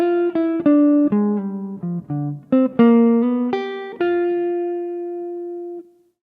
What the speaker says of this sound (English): I want you to carefully listen to this simple jazz line